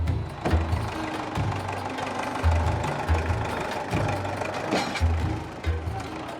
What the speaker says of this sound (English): We get hooked up to the tractor, and it looks like we'll be across in no time.